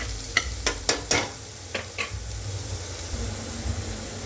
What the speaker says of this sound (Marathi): यात आपण एक कांदा टाकणार आहोत। तो फ्राय करून घ्यायचा आहे।